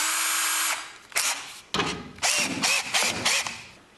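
A power drill whirs in several short bursts, close and loud, drilling 1/4-inch holes into a MirroCraft boat hull from the inside out, with brief pauses between each run.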